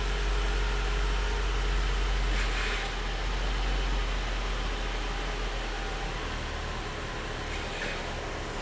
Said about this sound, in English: Now we're going to start the vehicle and turn the vehicle steering wheel lock to lock several times.